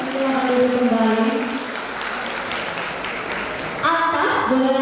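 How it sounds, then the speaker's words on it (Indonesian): Applause at a university convocation ceremony, continuous crowd clapping heard throughout with sustained tonal music or voice over it and a louder swell near the end. "Boleh berikan tepuk tangan Bapak Ibu sekalian"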